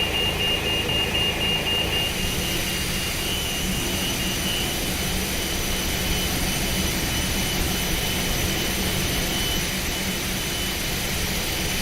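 A CFM jet engine on an Airbus A320 roars steadily in the FlightFactor A320 flight simulator, a loud, continuous whine and rumble with a high-pitched tone over dense broadband noise, unchanging throughout.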